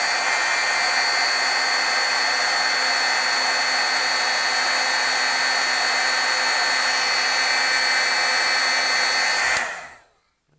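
A heat tool dries a small, wet stamped-ink sailboat, blowing a loud, steady whine with no break for nearly ten seconds, then cutting off and winding down to quiet.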